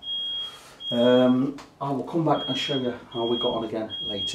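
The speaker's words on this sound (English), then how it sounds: "That's my smoke alarm going off." A household smoke alarm going off while someone is cooking in the kitchen, sounding as a high, steady electronic tone in repeated bursts beneath someone talking close by.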